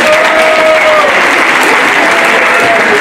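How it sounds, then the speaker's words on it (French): Loud, continuous applause from a crowd at a village ceremony in Isola honoring its ski champions and the Isola 2000 ski club, a thick unbroken roar of clapping, with a faint whistle or cheer over it. "on peut applaudir très fort"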